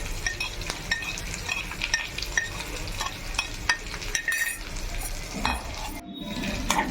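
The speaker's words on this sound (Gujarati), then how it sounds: "હવે ઝીણા ઝીણા કાપેલા બટાકા હતા હવે નાખીશું।" Finely chopped potatoes frying in hot oil for Gujarati poha, a steady close sizzle with stirring scrapes and small utensil clinks throughout, no talking.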